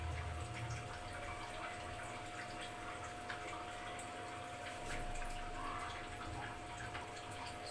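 Water trickles steadily into a bowl of flour dough as it is mixed by hand, a continuous close, soft splashing and dripping with no talk.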